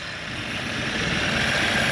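A Mahindra car's CRDI diesel engine idles steadily with a continuous droning hum, close and fairly loud, slowly building slightly in level with no talk over it.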